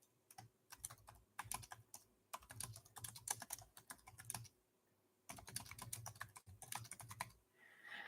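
Typing on a computer keyboard during a live chat stream: two long runs of crisp, rapid keystrokes, close and distinct, separated by a quiet pause of about a second, with no speech.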